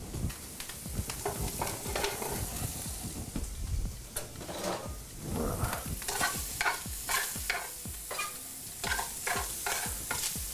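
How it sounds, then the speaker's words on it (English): Food browns in a hot pan while being tossed and stirred: a continuous close sizzle broken by repeated scraping and shaking bursts in an irregular rhythm, with no talking. "Make sure you keep tossing this. Just want to get it nice and browned."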